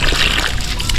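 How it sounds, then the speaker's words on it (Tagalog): Water splashing and sloshing as it is poured into a cement mix at a house construction site, a loud, brief burst of wet noise. "give tayo ng tubig para sa pangalawang halo"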